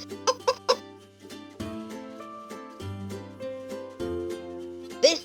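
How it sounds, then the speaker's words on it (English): A LeapFrog 100 Words interactive book plays a hen sound effect: three quick sharp clucks followed by a light electronic tune, ending with another cluck, close and clear. "This hen walks."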